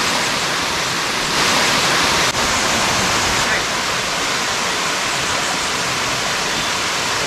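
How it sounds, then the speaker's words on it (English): A waterfall at Castaigne roars as a continuous broadband rush of falling water, loud and steady throughout with no speech over it. "And we get to take in the beautiful waterfall."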